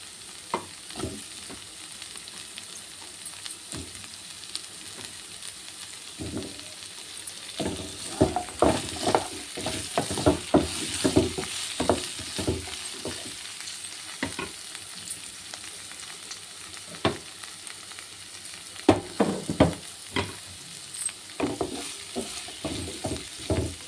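Drumsticks stirred in a cooking pan, a steady background sizzle with bursts of quick scraping and clattering strokes, busiest in the middle and near the end, close and with no speech.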